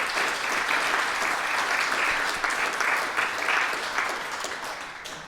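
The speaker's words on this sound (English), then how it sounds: "Let's give them a round of applause." Dense, sustained audience applause at a medallion award ceremony, loud and even throughout before easing slightly toward the end.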